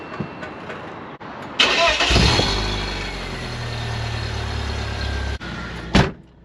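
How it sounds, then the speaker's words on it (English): Cold start of a 1998 BMW Z3 engine: a sharp starter crank followed by a loud catch and a rising roar that settles into a steady, rough idle, nearby and alone. "this is a cold startup on a 1998 BMW Z3"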